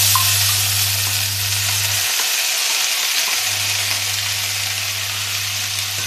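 Black-eyed peas (lobia) fry with spices in a pressure cooker, giving a loud, steady, close sizzle throughout with a constant low hum that drops out briefly midway.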